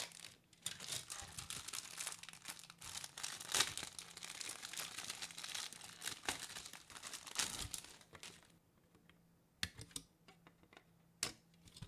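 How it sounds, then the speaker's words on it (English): Small plastic bags of parts from a Fujimi 1/24 shipping container diorama model kit being torn open and crinkled up close, a steady run of crackling and rustling that thins into a few sharp crinkles near the end. "Start tearing up these little bags."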